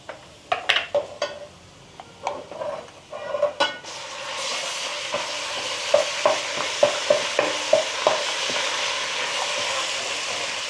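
Ginger garlic paste and turmeric go into browned onions in a hot pan for a chicken fry. Spoon clatter comes first, then a steady sizzle with repeated metallic stirring knocks, close up and without talk.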